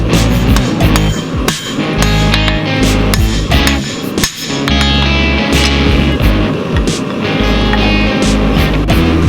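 Loud, rapid metallic hammer blows ring out continuously as hot steel is hand-forged into a knife blade, with a short pause midway, close up and without talk.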